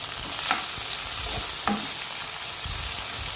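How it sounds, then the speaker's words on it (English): Chopped tomato and green chili fry in a pan for chicken biryani, a dense hiss of sizzling with a few scraping stirs, close and steady with no voices. "Then add chopped tomato, green chili. Then mix it well"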